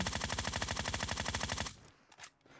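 Rapid automatic gunfire from the video game PUBG Mobile rattles in a loud, even burst for under two seconds, then cuts off into quieter scattered game sounds.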